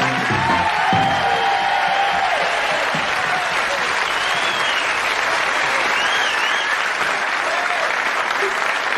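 A studio audience on a television game show greets its host with loud, sustained applause mixed with cheering and a few whoops, dense and continuous throughout.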